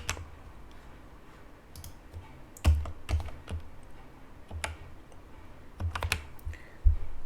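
Keys on a computer keyboard clatter in irregular bursts while code is written for an SAP Fiori UI5 app, with a few louder clustered strokes over a quiet room and no talking.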